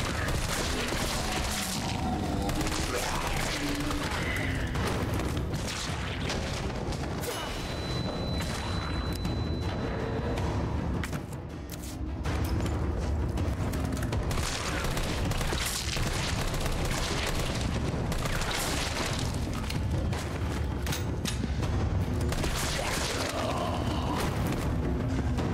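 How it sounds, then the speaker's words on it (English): Grenade blasts and gunfire from a Resident Evil 3 fight, dense and continuous for nearly half a minute, with heavy booms layered over steady shooting and a brief lull around the middle. "So many grenades."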